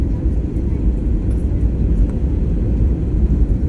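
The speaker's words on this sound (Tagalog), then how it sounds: "Naglabas na ng usok ang eroplano." Airplane cabin during descent toward Bacolod, with a steady, loud low engine and air roar filling the cabin throughout, no voices rising above it.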